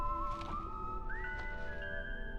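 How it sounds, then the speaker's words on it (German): In the video game Syberia 4, a character whistles a quiet, meandering tune with sliding notes, soft and alone over faint background ambience. "Na, pfeifst du ein bisschen rum?"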